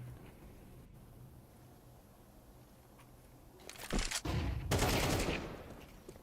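Pistol gunfire rings out in a Counter-Strike esports match during a pistols-only eco round: faint game ambience at first, then a loud cluster of rapid shots in the final couple of seconds.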